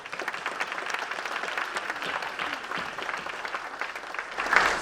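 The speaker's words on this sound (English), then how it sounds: "I want to thank our panelists. Let's give them a round of applause." An audience in a hall applauds panelists at a family orientation event, steady overlapping clapping at moderate distance, swelling slightly near the end.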